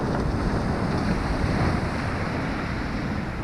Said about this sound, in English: So some big old tides coming in.